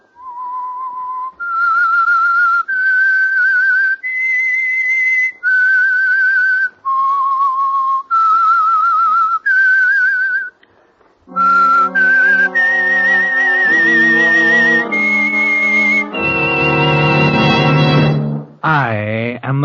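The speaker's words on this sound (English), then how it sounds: "That whistle is your signal for the Signal Oil program" The Whistler radio program's signature whistled theme plays loud and alone: a sequence of clear, sustained whistled notes stepping up and down in pitch, followed by a fuller orchestral passage that ends in a rising swell.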